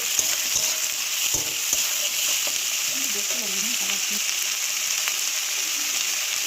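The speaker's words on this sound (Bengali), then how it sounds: "দেখো আমি দিয়ে দিলাম ক্যাপসিকামগুলো আস্তে আস্তে" Capsicum frying in a pan while being stirred for an egg jhuri chachari curry: a steady, close hiss of sizzling oil runs throughout, with scattered light scrapes and knocks of the spoon against the pan.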